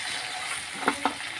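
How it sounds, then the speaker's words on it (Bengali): Fish frying in hot oil in a pan, a soft continuous sizzle with two small crackling pops near the end. "এই দেখো আমার মাছ ভাজা হয়ে গেছে।"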